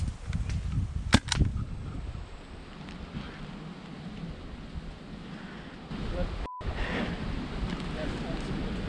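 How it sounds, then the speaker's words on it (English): Airsoft gun shots fire outdoors as two quick sharp cracks early on, then a lone faint pop later, over wind noise and distant ambience. "I tested just how blended in I really was by shooting Aiden"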